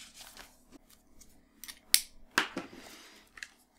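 A pen scratches out a quick test on Moleskine notebook paper: short, crisp strokes in an irregular rhythm, close and fairly quiet, with a few sharper scrapes and no talking.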